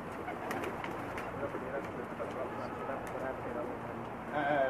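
Pigeons coo softly at a rooftop loft in Jeddah, the low murmuring calls running beneath ongoing conversation and general outdoor background noise.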